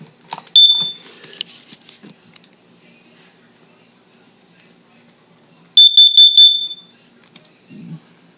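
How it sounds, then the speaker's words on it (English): One of three household smoke detectors under test gives a loud, shrill beep near the start, then a longer, pulsing alarm burst later on. Quiet handling noises and faint sounds fill the gaps between them. "we're gonna test the smoke detectors, all three of them"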